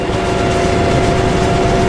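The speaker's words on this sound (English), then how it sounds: "that noise you hear, that's just the knife is cutting hard." Loud, steady mechanical roar of a Premier 1900 swather with a constant hum, the grinding drone of its knife cutting hard through a flax crop without pause.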